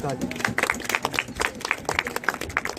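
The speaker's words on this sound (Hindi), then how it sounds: "ताली बजा के स्वागत करो।" A crowd at a political party gathering claps in welcome, with uneven clapping mixed under a voice speaking close by.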